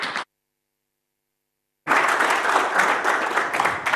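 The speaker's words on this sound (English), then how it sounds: "Please give big round of applause for Evan talking about Playable ads." After a short clap and a brief silence, an audience at a LinuxConf AU conference talk breaks into sustained, even applause that fills the room, with no one speaking.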